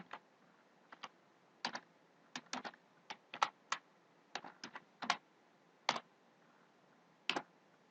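A computer keyboard is typed on in scattered, sparse keystrokes, single taps and short pairs spread unevenly, quiet and close with no talking.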